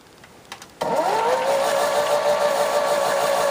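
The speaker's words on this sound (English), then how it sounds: "it's kind of hard because the motor does rev up quite fast" A toy AEG Öko-Lavamat 86730 washing machine motor switches on abruptly and revs up fast to a steady, loud, high-pitched whine that holds constant, after a few faint clicks.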